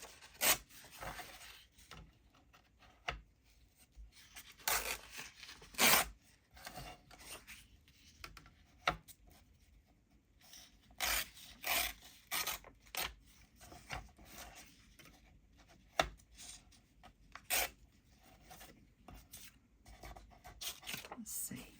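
Scissors cut paper for a collage: intermittent short snips and papery rustles and scrapes come in uneven bursts, close and fairly quiet, with a voice murmuring now and then between cuts.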